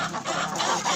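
Chickens clucking close by in a farmyard, a few short overlapping clucks packed into a brief moment.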